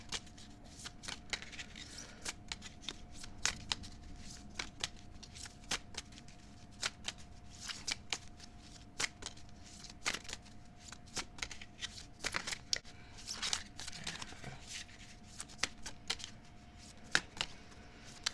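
Tarot cards shuffled and drawn by hand at close range, sharp riffling flicks and soft slaps repeating irregularly over a quiet room, with no talk.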